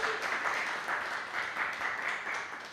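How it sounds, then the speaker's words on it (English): An audience applauds Professor Dieter Trau at a hackathon pitching session in Bangkok: steady, dense clapping throughout that fades slightly at the end. "I would like you to give a big applause."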